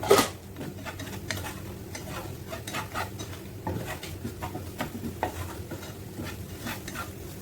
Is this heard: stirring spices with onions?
yes